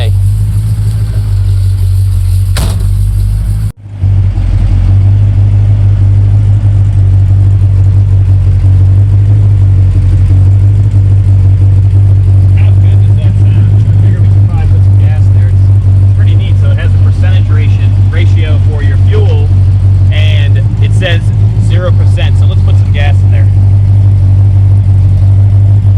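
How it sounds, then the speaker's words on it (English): A 1965 Chevrolet Malibu with a 283 engine and a 700R4 four-speed automatic drives on a test run, its loud, steady engine drone and road noise filling the cabin, with a brief cut early on. "So we're going for a test drive in the 65 Malibu right now."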